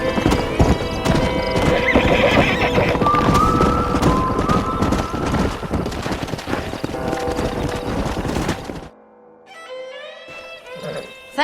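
Hoofbeats clip-clop steadily from horses in the Red Dead Redemption video game, mixed with a neigh and dense game sounds for most of the span, before the scene quiets near the end.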